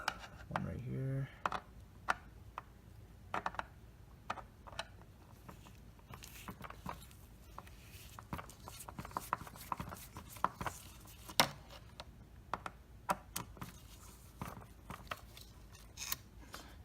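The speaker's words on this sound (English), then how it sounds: "I'm pretty much holding the camera and also removing the screws." Small, sparse clicks and light ticks from screws being backed out of a 2016-or-later Honda Civic headlight housing, faint and close, scattered irregularly across a quiet background with occasional handling noise.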